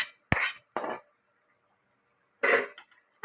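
A cooking pot of curry is lifted off the stove with a few close metallic clanks and scrapes in quick succession, then quiet, then one more clatter near the end.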